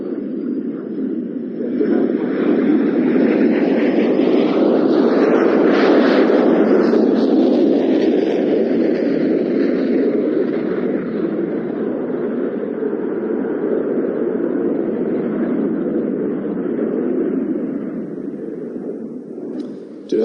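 English Electric Canberra jet making a low dirty pass at an airshow with wheels and flaps down, a loud sustained roar that swells and sweeps past over about twenty seconds, with a Doppler-like pitch shift.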